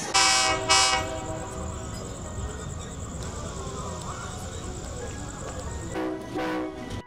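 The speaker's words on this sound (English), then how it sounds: "The free train service sponsored by the Osun State government arrived Osogbo from Lagos" A train arrives at Osogbo station in Osun State, inbound from Lagos, its horn sounding in long bursts at the start and again at the end over a steady rumble and crowd noise, with voices in the background.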